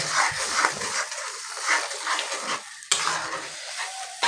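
Chickpea masala with turmeric and salt sautéing in a pan, with a soft crackling sizzle and intermittent scraping strokes of stirring, close and steady with brief pauses.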